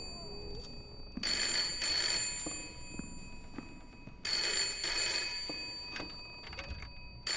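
A telephone stands in a hallway in the video game Layers of Fear (2023) and rings in two bright, jangling bursts separated by a short pause, close and loud over a quiet, low background.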